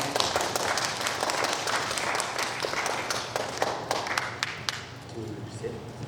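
An audience at a school team project presentation applauds the Gogotam team, a moderate crowd of claps with some sharp individual hand strikes standing out, thinning and fading toward the end.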